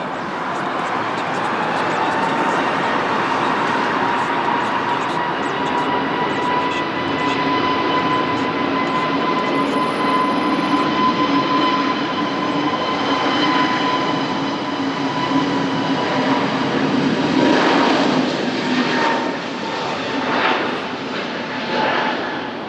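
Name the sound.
TAP Air Portugal airliner on final approach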